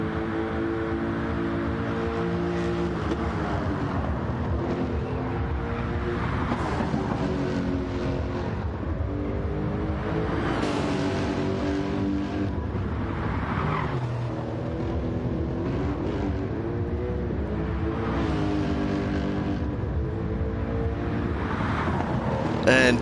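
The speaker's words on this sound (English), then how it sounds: "T. Copeland's Lexus GT3 race car is roaring around this apex" Lexus GT3 race car in Gran Turismo 7, racing a Gr.3 event at the Nurburgring: a sustained, loud engine roar that rises and falls in pitch as it shifts through gears, with steady wind rush underneath and no voices.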